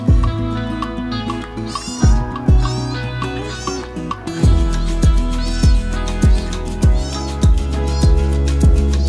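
A mother cat's kittens meow in short rising calls, repeated several times over a steady, loud rhythmic music track with a thumping beat.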